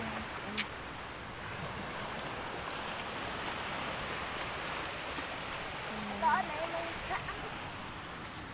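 Sea water washes steadily along a shore during a family walk, a broad continuous surf-like wash at moderate level, with brief voices and a few small knocks over it.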